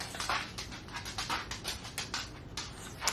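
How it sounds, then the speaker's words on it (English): A pet dog pants in quick, rhythmic bursts of breath with faint whimpers mixed in, close by and fairly quiet, with no talk over it. "My dog is here."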